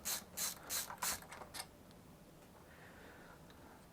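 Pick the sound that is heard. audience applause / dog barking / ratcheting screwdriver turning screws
ratcheting screwdriver turning screws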